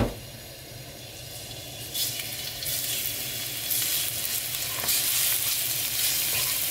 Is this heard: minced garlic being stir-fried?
yes